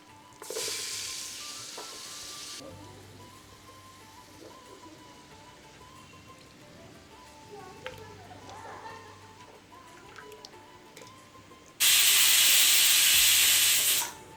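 Washed, chopped vegetables go into a pot for Kumbakonam wedding-style sambar, giving a soft steady sizzle and hiss with bursts of louder steam, at the start and again strongly near the end, under occasional talk.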